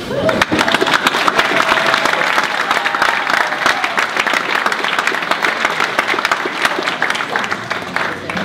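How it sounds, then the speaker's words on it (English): Warm applause for head of school Patricia Kaye at an Educator of the Year award ceremony, a loud, steady wash of many hands clapping that carries on evenly with no speech over it. "we ask Ms. Heritage's head of school, Patricia Kaye, to please stand for our applause"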